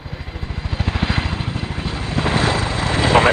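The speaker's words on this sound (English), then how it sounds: "Chinook. Clear takeoff, then turn right to route to the east of the airfield." Chinook twin-rotor helicopter taking off at the Fairford air show, loud and close, rotor blades thumping rapidly under a rising engine roar.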